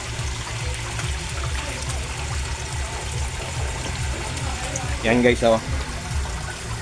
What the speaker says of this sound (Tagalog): i-on natin yung air pump ko guys ha